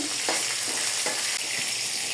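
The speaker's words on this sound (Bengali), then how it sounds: "পেঁয়াজ এবং রসুনটাকে কুচিয়ে রেখেছিলাম সেটাকে দিয়ে দিচ্ছি, এটাকে আমি ভেজে বেরেস্তার মতো করে তুলে নেব।" Chopped onion and garlic frying in hot oil until crisp and brown, a steady close sizzle with soft stirring scrapes and no voices.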